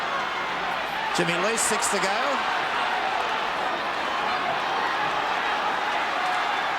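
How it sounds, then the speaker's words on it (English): Stadium crowd at a 1982 rugby league semi-final between Eastern Suburbs Roosters and Western Suburbs, a dense continuous roar of cheering and chanting with a commentator talking over it. "Crowd really getting behind them."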